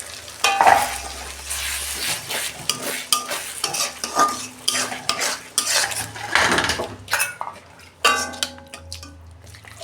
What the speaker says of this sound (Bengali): এই যে আমি কাজু আর টমেটোটা বেটেছিলাম দিয়ে দিচ্ছি।